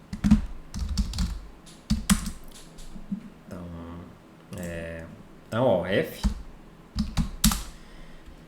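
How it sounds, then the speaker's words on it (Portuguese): A computer keyboard is typed on in short clattering bursts of close keystrokes while values are entered into math software during a physics lecture, with someone talking between the bursts. "vou pegar aqui o teclado."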